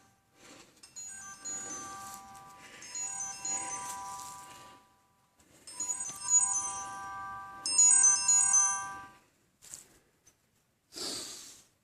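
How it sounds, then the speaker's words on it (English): A phone ringtone plays a bright electronic melody in several bursts with short pauses between them, fairly close and with no talking over it. "Let me turn my ringer off on my phone."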